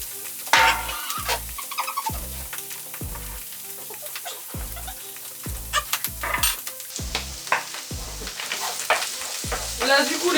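Mushrooms with two teaspoons of curry sizzle and fry in a pan, with a utensil scraping and stirring in repeated strokes over the steady crackle and no talking.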